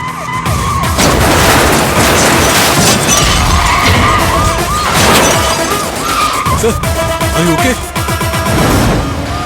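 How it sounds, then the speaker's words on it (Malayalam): A car rams another during a high-speed chase in a Tamil action film, with loud tyre skids, roaring engines and crunching impacts layered densely throughout. "ലെഫ്റ്റ് എടുത്ത് വണ്ടിക്കിട്ട് ഇടിക്കണം"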